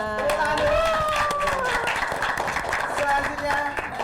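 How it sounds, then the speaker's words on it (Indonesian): An audience claps at a Ramadan talk event, giving a few seconds of scattered applause mixed with voices and background sound. "Tepuk tangan dulu."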